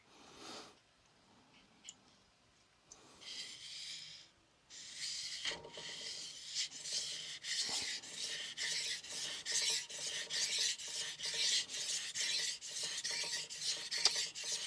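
Victorinox R.H. Forschner hard stainless chef knife scraping along a King NEO 800 whetstone, rhythmic rasping strokes that start sparse and quiet, then become rapid and steady, heard close.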